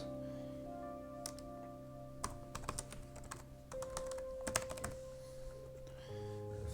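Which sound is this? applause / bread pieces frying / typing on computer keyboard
typing on computer keyboard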